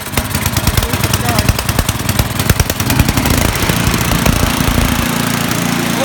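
A snowblower engine is primed and push-button started, rapid mechanical cranking giving way to a loud, rough running engine that settles into a steady idle, close and dominant throughout.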